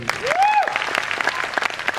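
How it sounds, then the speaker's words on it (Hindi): Audience applause at a motivational business gathering, brisk scattered clapping from a crowd with a whistle or cheer rising over it early on, continuing steadily through the short stretch. "एक बार जोरदार तालियां।"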